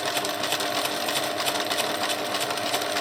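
A sewing machine runs steadily, stitching fabric for a tab base valance, a fast even mechanical whir with rhythmic needle clatter close by.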